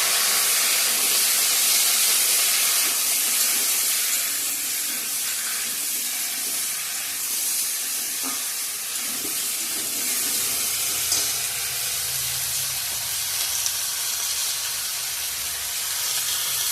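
Raw banana pieces cook in hot oil tempered with garlic, onion, dried chilli, bay leaf and cumin, giving a loud, continuous broadband hiss that stays nearly constant throughout, with no voices.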